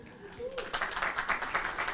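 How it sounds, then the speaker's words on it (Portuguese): An audience at a round-table panel on education gives a burst of applause, a brisk run of claps that starts after a short stretch of voice and keeps a lively, steady patter to the end. "que recebe nossos aplausos."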